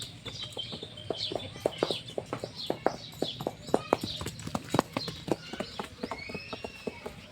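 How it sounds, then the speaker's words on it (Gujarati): A mare being ridden along, her hooves sounding a steady clip-clop of sharp close knocks throughout, with chickens clucking and birds calling faintly behind. "આટલી નાની ઉંમરમાં ઘોડી ચલાવે"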